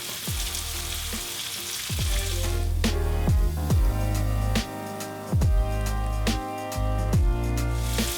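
Garlic sizzling in butter with paprika in a hot pan: a steady frying crackle runs throughout, broken by several loud, regular knocks and thumps of a utensil against the pan, with no talking.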